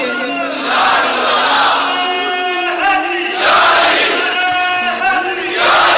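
Crowd loudly chanting religious slogans in unison at a religious gathering, with repeated call-and-response waves of many voices rising and falling in a steady rhythm.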